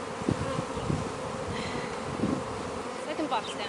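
Honey bees buzz steadily in a continuous near hum while the hive's frames and boxes are emptied onto a cloth during a Taranov split, with a few louder passes of individual bees close by.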